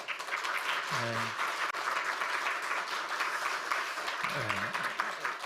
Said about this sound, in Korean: 잠깐 일어나시면 우리 박수로 축하해 주시겠습니다